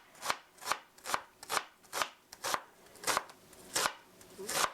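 Knife chopping button mushrooms on a board: about a dozen crisp, evenly spaced strokes, close and clear, with no voices.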